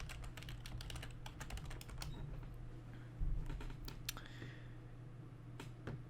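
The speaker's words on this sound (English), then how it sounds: "You're just going to type in Apache Web Server." Keys clatter on a computer keyboard as a web search is typed, a fairly close run of quick, uneven clicks with short pauses over a low steady hum.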